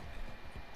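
Horse hooves clopping in the Red Dead Redemption 2 Online game, a short faint burst of hoof beats over low rumbling background noise.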